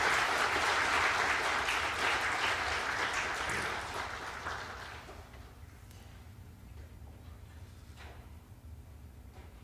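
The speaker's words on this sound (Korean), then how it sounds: "여러분께서는 박수로 환영해 주시기 바랍니다." A church congregation at a Sunday service applauds to welcome new members, a dense burst of clapping that holds for about four seconds and then fades into quiet room noise with faint scattered sounds.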